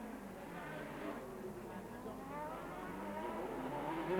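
Tyrrell 017 Formula One car racing at the 1988 Monaco Grand Prix, its engine droning steadily at a distance beneath a commentator's voice, with faint tyre noise.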